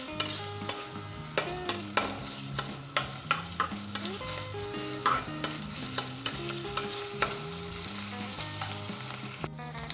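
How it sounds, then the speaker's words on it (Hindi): Chicken stir-fried in oil with ginger and garlic over high heat, steady sizzling with rhythmic scraping and clinking of a spoon against the pan, fairly quiet and close, no voices. "5 मिनट मैंने अच्छे तरीके से इसे अदरक लहसुन के अंदर ऑयल डालकर भूना है"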